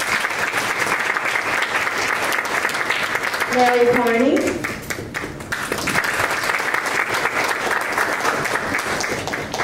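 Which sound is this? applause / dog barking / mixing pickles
applause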